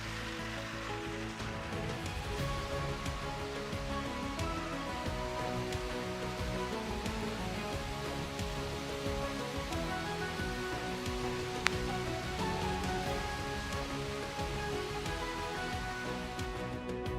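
Rain falls during a jeep road trip through the mountain roads of Neelum Valley, a steady, unbroken hiss of drops that holds evenly from start to finish.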